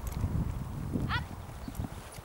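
A horse's hooves clip-clop in a steady rhythm during a riding lesson, fairly faint and close, while an instructor calls out to the rider and a brief squeaky sound cuts in.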